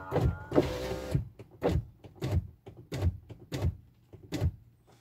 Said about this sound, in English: hopefully I've got that window open just a little bit